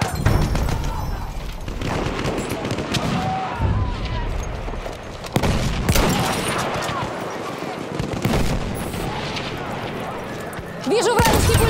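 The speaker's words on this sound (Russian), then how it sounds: "Это вражеский пулемет!" Enemy machine gun fires in Battlefield 1 near the Volga River, sustained bursts mixed with other gunfire and booms in a dense battle din, with shouting voices over the shooting.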